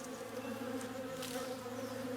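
Bees buzz in the video game Above Snakes, a steady, faint droning hum that runs unbroken throughout with no talking.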